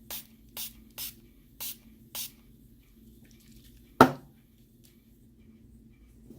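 Five short bursts of makeup setting spray in a steady rhythm, then a pause and one longer, louder hiss that fades quickly. The sound is close, with no talking.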